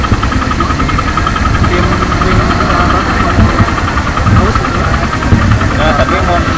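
A Suzuki Thunder 125 motorcycle engine with a strange internal noise runs steadily at idle, loud and close, with a rapid knocking, ticking rhythm throughout; someone speaks briefly over it.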